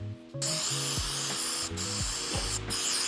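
Contact or mass airflow cleaner sprayed from an aerosol can onto the mass airflow sensor of a Nissan Navara, a close, loud, continuous hiss with a few brief breaks and shifts in pressure.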